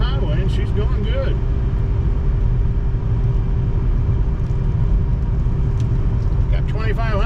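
A 1997 Mercedes C-Class cruising on the highway at about 55 to 60 mph, heard from inside the cabin as a constant loud engine and road rumble with a steady hum, with someone talking over it.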